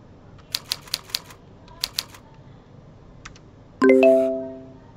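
Keyboard keys are tapped during a typing lesson, a quick cluster of clicks, then a short pair and a faint tap, followed by a loud bright chime that rings and fades.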